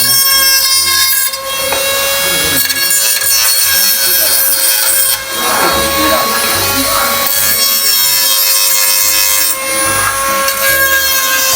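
A power tool fitted with a carbide bit trims a motorcycle chain guard, giving a loud, continuous grinding and rasping whine with brief dips, close and alone without talk.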